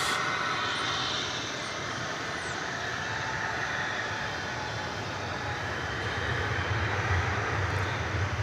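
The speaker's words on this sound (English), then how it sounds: "this is coming in on the other side of the airport, the flight from Buenos Aires." An airliner arriving from Buenos Aires at DFW Airport, on the far side of the field, makes a steady, distant jet roar that holds evenly throughout with no talk.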